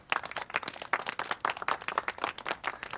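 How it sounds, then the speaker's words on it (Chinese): Applause from a small group at a swimming training session as a young swimmer is sent off: distinct individual claps in a quick, uneven rhythm, close and clear, no voices over them. "你们的掌声能不能再热烈一点？"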